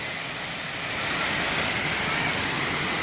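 Multnomah Falls, the waterfall in Oregon, roars as a dense, steady rush of falling water near its edge, loud and unbroken throughout.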